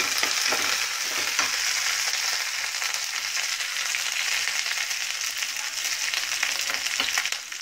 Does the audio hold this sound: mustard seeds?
yes